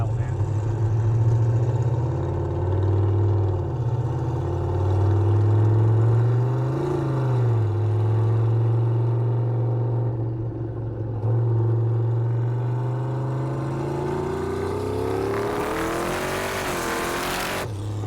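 A turbocharged LS V8 swapped into an MK5 Supra drones under heavy throttle, its deep engine note climbing and holding before the revs rise sharply and a rushing hiss from the wastegate opening bursts in near the end.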